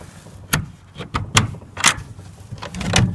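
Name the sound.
opening latched door of chicken coop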